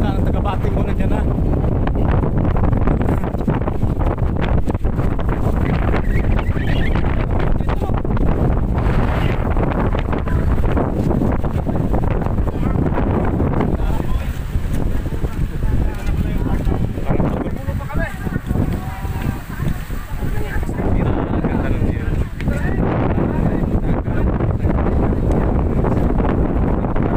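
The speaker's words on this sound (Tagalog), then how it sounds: "sobrang lakas po ng alon at hangin" Strong wind roars steadily across the microphone with the wash of rough sea underneath, loud and continuous, with a voice speaking over it now and then.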